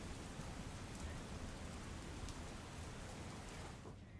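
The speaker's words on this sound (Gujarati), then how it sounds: "મોડી રાતથી જે રીતના વરસાદ વરસી રહ્યો છે" Steady rain falls in Surat, a dense even hiss of drops on surfaces with faint scattered patters, heard alone and fairly quiet.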